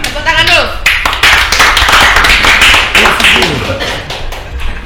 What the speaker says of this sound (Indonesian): jadi kadang Tepuk tangan dulu.